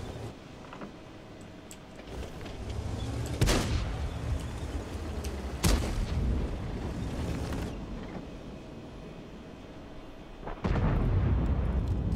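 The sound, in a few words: tank cannon firing in video game World of Tanks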